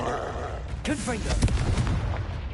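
A Hogwarts Legacy Confringo fire spell detonates with a heavy, close boom and crackling burst around the middle, with swooshing game effects and a low rumble around it.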